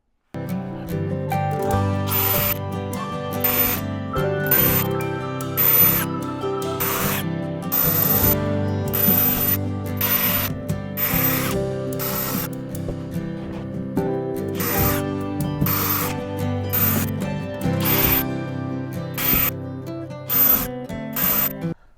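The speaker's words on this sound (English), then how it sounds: "now I've got to get in here and drill holes between the lines" Drilling holes through the wall of a DIY teardrop trailer camper: a run of short, repeated bursts of a whining drill, each a second or so long with brief pauses between, steady and fairly close.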